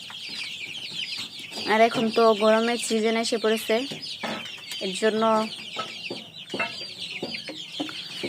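Chickens cluck and squawk throughout a crowded poultry shed in the hot season, a dense, steady chorus with someone talking over it.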